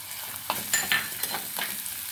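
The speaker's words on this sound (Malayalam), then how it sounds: "ഇനി നല്ല രീതിയിൽ അത് വഴറ്റിയെടുക്കാം." Chopped ginger, garlic and curry leaves sauté in a pan, a close crackling sizzle with several quick stirring scrapes and pops over about two seconds, no voices.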